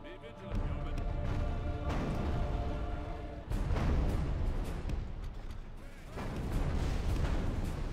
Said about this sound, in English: Let's begin a bit of a bombardment of that place.